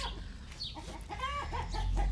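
Chickens cluck softly nearby in short, scattered calls over a low background rumble.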